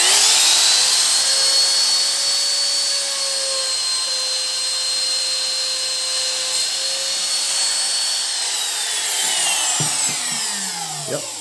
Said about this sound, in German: Fräsen das wieder durch.